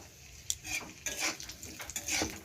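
Raisins fry in oil after cashews, with soft sizzling under several clinks and scrapes of a spoon stirring in the pan; quiet and close, no talk.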